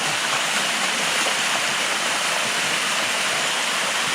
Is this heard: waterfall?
yes